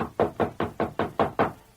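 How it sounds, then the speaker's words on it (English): Seven sharp knocks rap on a wooden front door at a steady, even pace, close and distinct, with no talking. "walked up the steps to the porch, and rapped on the front door"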